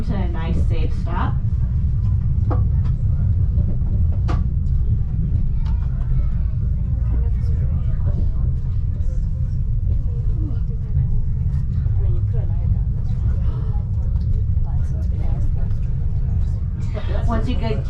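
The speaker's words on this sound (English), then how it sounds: "please remain seated so my engineer Josh will bring this train to a nice, safe stop" The Pikes Peak cog railway train rumbles steadily as it slows to a stop, with a constant low mechanical drone and occasional faint clanks throughout.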